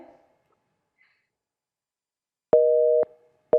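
After near silence, a telephone's electronic busy tone sounds after a hang-up: one half-second beep, a short gap, then the start of another.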